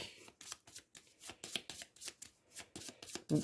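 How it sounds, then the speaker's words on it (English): A terror deck of Final Girl board game cards is shuffled by hand, about a dozen crisp papery bursts in an uneven rhythm, close up and alone. "We will shuffle our terror deck."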